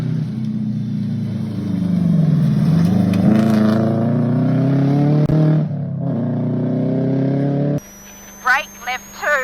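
Rally car on a stage at the 2022 Safari Rally, Western Australia: steady, close in-car engine drone rising and falling with throttle, with a voice speaking partway, then a cut to quieter engine hum under a voice speaking.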